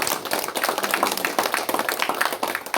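A church congregation claps energetically during a worship service, dense steady applause from many hands throughout.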